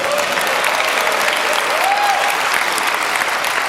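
Full, continuous applause from a conference crowd at the 26C3 hacker congress, holding a dense, even roar throughout, with a faint whistle rising briefly midway.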